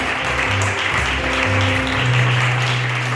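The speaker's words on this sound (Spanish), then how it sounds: "Den un aplauso fuerte al Rey." Steady applause from a church congregation, with a low musical hum underneath throughout.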